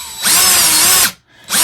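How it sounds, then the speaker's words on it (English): A power drill bores through a decorative straw, a loud high-pitched whine that holds for under a second, stops briefly, then starts again, close up with no talking. "And you can drill all the way through like that."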